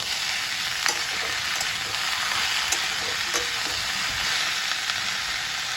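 Pumpkin slices fry in a pan of hot oil, a steady close sizzle with crackling pops scattered throughout, no voices over it.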